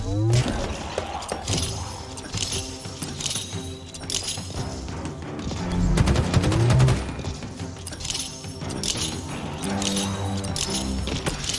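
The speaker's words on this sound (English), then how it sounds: "I'm just gonna keep spamming my grenades." Grenade blasts and rapid gunfire fill a Halo firefight on Legendary difficulty, with dense, layered explosions and shooting running continuously, swelling into a louder burst midway and staying busy throughout.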